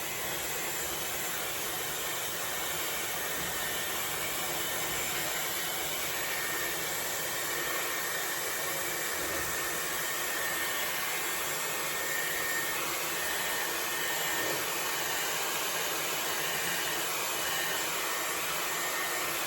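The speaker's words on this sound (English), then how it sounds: "So it just sucks all the hair inside the barrel." A Dyson Airwrap hair styler runs continuously, a loud steady high-pitched whooshing airflow with a faint whine, close and unbroken throughout.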